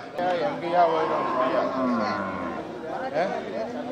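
Cattle at the Punjai Puliampatti livestock market lowing amid a busy crowd, with close conversation running over a steady background of animal calls and market chatter.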